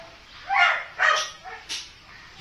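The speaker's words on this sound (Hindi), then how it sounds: "टोनी बीच में भौंक रहा है" A dog barks four times in a loose sequence, the first two barks loud and close, the later two shorter and softer, with no talking over them.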